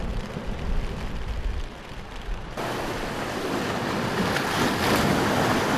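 Sea waves wash ashore off Pisa on the Italian coast, a steady broadband roar of surf with wind buffeting the microphone, growing louder and fuller midway through and continuing without any voices.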